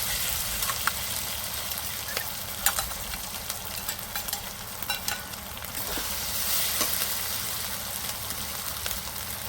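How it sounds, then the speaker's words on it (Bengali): Chicken stir-frying in a pan with ginger and garlic paste, a steady loud sizzle and crackle with occasional scraping stirs, continuous throughout with no talk. "আদা রসুন দিয়ে কিছুক্ষণ নেড়ে নেব"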